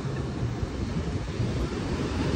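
Ocean waves wash onto a beach in a steady, continuous roar, with wind buffeting the microphone throughout.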